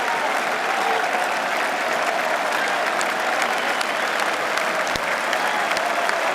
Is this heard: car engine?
no